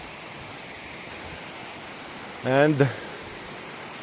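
A waterfall in a Rhodope Mountain canyon near Smolyan, Bulgaria, makes a steady, even hiss of rushing water throughout, broken briefly by one short spoken word close by.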